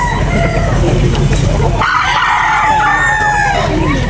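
A rooster crows once at a poultry sale, a long bright call cutting in partway through over steady crowd murmur and nearby talk.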